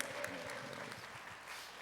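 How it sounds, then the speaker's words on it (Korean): Applause from a church congregation at a 40th-anniversary talk concert, a steady wash of clapping that carries on for the whole stretch at moderate distance, with a voice speaking over it. "우리 다시 한 번 더 수고하셨다고 박수로"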